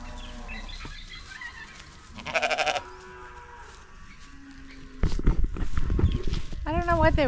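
Sheep bleat in an early-morning pasture, wavering calls near and far with a short burst of shuffling, and a person talks over the later part.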